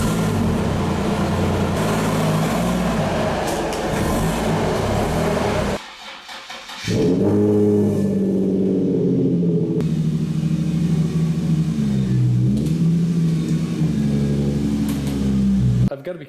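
A Nissan 350Z idles and rumbles steadily as it creeps into a home garage, the engine note dipping briefly midway, then returning as a loud, close, continuous drone.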